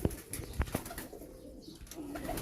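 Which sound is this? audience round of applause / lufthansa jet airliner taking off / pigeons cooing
pigeons cooing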